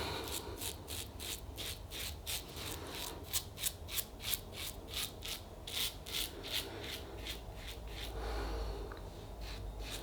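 Phantom Blue double slant DE razor scraping across lathered stubble with Sudsy Soapery Bayberry soap, close and quiet: a rhythmic series of short raspy strokes, around twenty passes, with a brief pause and soft handling noise near the end.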